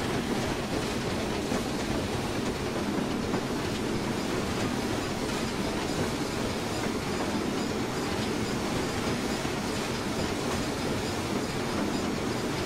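A BR Black 5 steam locomotive runs steadily in the Train Simulator 2015 game on the Western Lines of Scotland, giving a continuous, fairly loud rumble of rolling wheels and rail noise with no talk over it.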